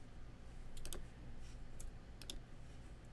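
Several quick mouse clicks on a computer, a pair near the start and another pair later, sharp and close over a low steady room hum, no talking.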